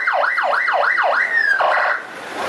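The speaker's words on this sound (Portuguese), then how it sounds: "Mais uma ambulância chegando aqui." An ambulance siren arriving at the scene of a bank robbery in Rolândia, Brazil, wailing loudly in rapid repeated up-down sweeps, then shifting to a steady tone and a choppier yelp.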